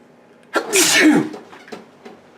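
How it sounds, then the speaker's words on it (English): A single forceful sneeze bursts out after a short quiet lead-in, loud and close, then trails off into faint breathy rustling. "You ever sneeze so hard like it scratches the inside of your body?"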